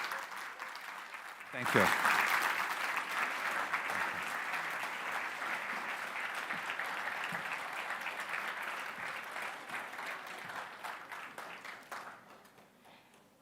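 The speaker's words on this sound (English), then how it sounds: "a long applause would be very, very applicable" Long, steady audience applause at a conference, rising suddenly after a brief spoken thanks and continuing loudly before tapering off near the end.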